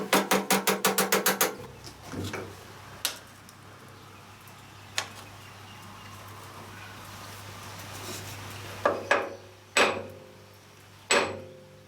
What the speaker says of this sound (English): tap it over with the hammer